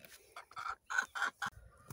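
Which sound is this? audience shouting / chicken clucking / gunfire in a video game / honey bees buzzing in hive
chicken clucking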